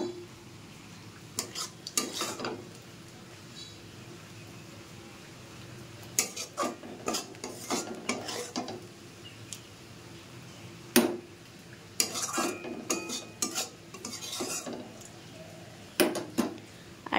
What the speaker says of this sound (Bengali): আর এবার আমি একটা বাটিতে তুলে নেব।